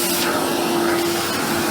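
An AEG Deluxe Electronic 608 Black Line vacuum cleaner runs steadily on a hard lino floor, a continuous close motor whine with a strong sustained hum and airy rush, no pauses or voices.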